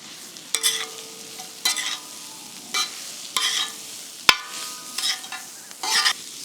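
Boiled, crushed young jackfruit is stirred in a hot pan with soft sizzling, marked by about seven distinct scraping strokes of a utensil at a steady rhythm, close up.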